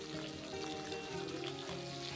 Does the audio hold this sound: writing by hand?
no